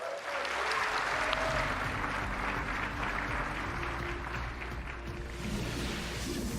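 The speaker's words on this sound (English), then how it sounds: "Yeah, clap, clap, clap, clap." Dense, steady applause from a large audience at the PC Gaming Show press conference at E3 2019, continuous clapping that holds at an even level for several seconds.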